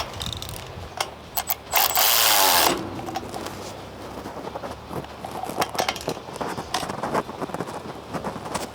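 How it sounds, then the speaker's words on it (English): A ratchet fitted with a deep well socket tightening a bolt on a roll-off truck's tarp system, with a run of quick clicking bursts and a short mechanical whir in between, close and alone. "the shallow well socket can go on the bottom with the deep well on the ratchet on top."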